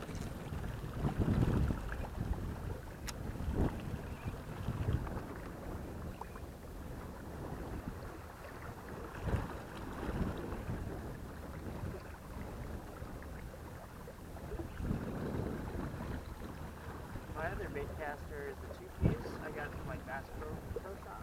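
A boat's trolling motor runs on open water under steady wind noise, with occasional knocks and water sounds. People talk nearby throughout.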